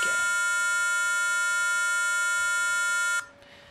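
A piano circuit's buzzer sounds a loud, steady electronic tone with a bright, harmonic-rich buzz, holding for about three seconds before cutting off abruptly, leaving only quiet background hiss.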